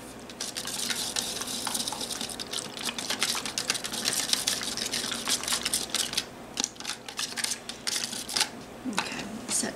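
Paint and water being stirred together in a container to make a rope stain: a steady, close scraping and swishing with quick clicky strokes that runs throughout at moderate loudness.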